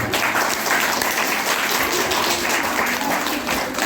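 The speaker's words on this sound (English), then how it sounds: "Clap for yourself." Students at a debate competition applaud themselves with steady, dense clapping that fills the room evenly throughout, close and loud, with no one speaking over it.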